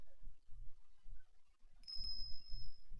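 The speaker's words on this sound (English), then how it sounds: "Ding-a-ling, ding-a-ling. What's that? Is that a bell?" A small bell, like one on a dog's collar, rings in the video game Ace Attorney Investigations 2, a thin steady high tinkling tone rising in the second half over low soft game sounds.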